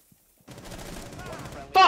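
Rapid gunfire in Rainbow Six Siege, shot through a wall, begins after a short quiet start as a dense, muffled burst of automatic shots, ending in a sharp louder blast.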